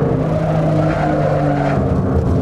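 BMW M1 race car driven in Assetto Corsa at Vallelunga, a loud close engine tone holding steady then shifting, with tyre scrub and skidding noise layered over it, no talk.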